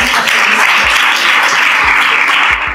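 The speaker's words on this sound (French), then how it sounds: "Applaudissements." Sustained audience applause fills a gathering about studying abroad on scholarships, dense and steady with many hands clapping at once, loud and close throughout before tapering slightly at the end.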